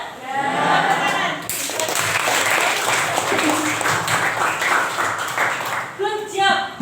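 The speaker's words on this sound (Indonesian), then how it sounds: "Tepuk tangan." A classroom of students clapping together, a dense, loud burst of applause that carries on for several seconds, mixed with voices and cheering.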